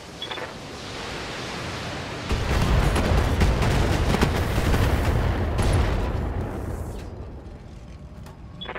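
Mech weapons firing in the BattleTech video game, Girondas Badlands mission: a dense, roaring barrage of heavy fire that swells loudly after a quieter start, sustained for several seconds before easing off.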